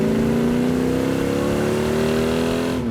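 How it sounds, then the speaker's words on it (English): A 1967 Hemi GTX convertible with dual quads revs hard, a loud, snarling exhaust tone rising steadily in pitch over a few seconds, close and alone. "That is one snarler of an engine."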